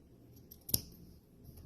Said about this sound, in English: Now I can use my scissors and just snip it.